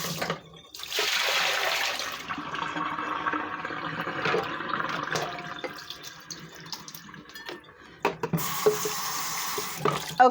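Veal being rinsed under running tap water, a close rushing and splashing stream that varies as the meat is moved, broken by short pauses with clinks and handling sounds.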